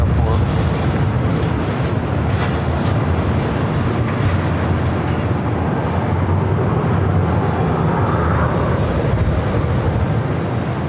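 An airliner landing on runway 24 right at LAX, a loud continuous roar of engine and wind noise that holds steady throughout, heavy and close.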